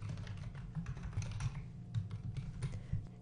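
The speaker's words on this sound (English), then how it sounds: "First, I'm going to just type a little bit of text." Text typed on a computer keyboard: quick, irregular clusters of close, soft key taps over a steady low hum, continuous for about three seconds with no voice.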